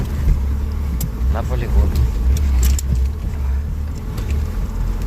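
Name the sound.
UAZ Bukhanka van driving, heard from inside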